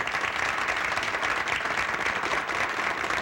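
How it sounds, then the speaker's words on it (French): An audience at a Soirée Canadienne in Valcourt applauds the parish priest, a dense, loud wall of clapping from a large crowd, sustained throughout. "Vous pouvez l'applaudir, votre curé."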